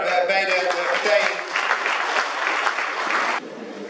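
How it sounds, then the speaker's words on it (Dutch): Steady applause from a crowd at a municipal New Year reception, many hands clapping close and loud, with a voice briefly at the start and the clapping cutting off abruptly near the end. "Nou, één applaus ook nog voor beide partijen."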